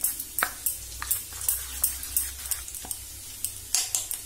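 Cashew paste mixed with yogurt in a bowl for white paneer, a spoon tapping and scraping the bowl in a steady repeated rhythm, about two strokes a second, close and quiet.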